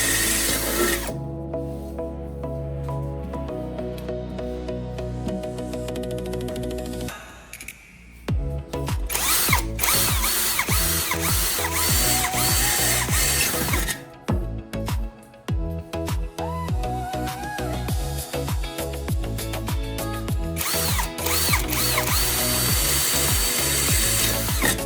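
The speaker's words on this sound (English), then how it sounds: "now take a drill and drill all the marked points" A power drill bores holes in an aluminum can, a loud, sustained whining drone with brief pauses and restarts between holes, close and continuous.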